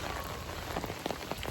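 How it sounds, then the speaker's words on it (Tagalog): Heavy rain with wind in Vancouver, a dense, steady hiss of drops pounding a surface close by, with no voices. "Grabe ang lakas ng ulan guys."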